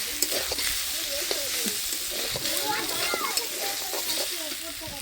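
Spice paste sizzles with vegetables in a pan, a continuous close frying crackle under repeated scraping and stirring strokes, with faint voices in the background.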